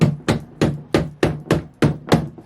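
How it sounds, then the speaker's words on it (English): A rubber-faced hammer taps metal parts of a Vevor 7x12 inch mini metal lathe, giving eight evenly spaced, dull, close knocks in a steady rhythm. "I got this hammer from Amazon. Pretty cool hammer. It's rubber on both sides."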